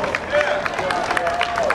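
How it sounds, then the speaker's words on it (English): Crowd at an Oscar Grant justice rally clapping in a steady dense patter, with faint voices and cheers mixed in throughout. "Give a round of applause."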